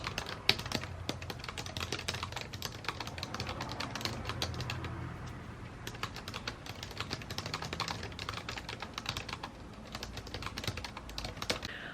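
Steady, continuous computer keyboard typing during a timed novel-writing sprint, dense rapid keystrokes running throughout at moderate volume over a low background hum.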